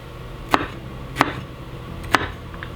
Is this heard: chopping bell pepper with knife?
yes